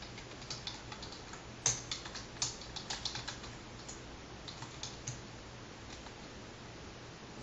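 Code is typed on a computer keyboard with irregular runs of soft key clicks and a few sharper taps, close and fairly quiet over a faint background hum, with no talking.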